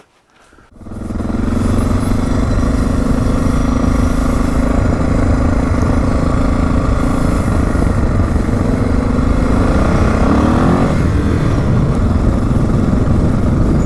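A Suzuki DR650 motorcycle engine fires up and runs steadily on a test ride, a loud continuous single-cylinder drone with a slightly choppy, uneven note and no talk over it.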